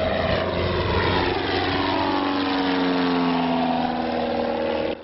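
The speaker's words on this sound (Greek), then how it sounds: "απογειώθηκε σήμερα το πρωί από το αεροδρόμιο της 111 πτέρυγας μάχης στη Νέα Χίαλου το μονοκινητήριο αεροσκάφος τύπου Τσέσνα" A single-engine Cessna takes off from a fighter-wing air base near Nea Anchialos, its propeller engine droning loud and steady throughout, the pitch rising slowly as it climbs, with no voices.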